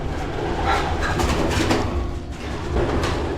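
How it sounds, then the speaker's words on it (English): Pigeons coo inside an abandoned 125-year-old grain elevator in Bozeman, Montana, low, throaty rolling calls that repeat in overlapping bursts, fairly close and loud, with a murmur of hollow room noise beneath. "those pigeons."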